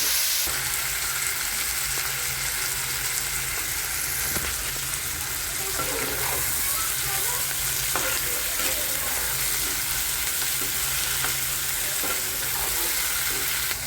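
Onion frying in a pan for veg Kolhapuri pulao, a loud, continuous close-up sizzle of hot oil with faint stirring scrapes and no talk.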